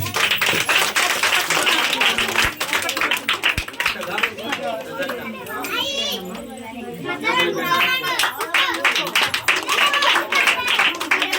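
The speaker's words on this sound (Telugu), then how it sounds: "చప్పట్లు కొట్టండి బిడ్డ." Children clapping at a village Christmas celebration, a burst of quick, close claps over lively chatter and shouting from a crowd of kids, with someone talking.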